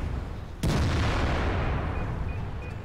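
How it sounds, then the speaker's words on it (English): High explosive shells slamming into an IS-5 heavy tank in World of Tanks: one sharp, loud impact blast that rolls into a long rumbling decay under steady battle ambience, with no talk. "You got so fed up, you eventually started spamming high explosive at me."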